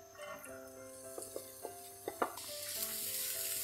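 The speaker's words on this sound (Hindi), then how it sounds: "ऑयल हमारा अच्छे से गर्म हो चुके हैं, अब इसमें हम ये कटे हुए प्याज डाल देंगे।" Chopped onions drop into hot oil and crackle, with several sharp pops over a rising sizzle that turns into a steady, close frying hiss; no voices.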